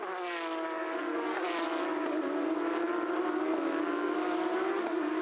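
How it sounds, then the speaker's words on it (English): Porsche Carrera Cup race cars roar past on the circuit at Zhuzhou, a sustained, loud engine drone with rising and falling pitch as the field streams by, heard alone without commentary. "My, those cars sound good, don't they?"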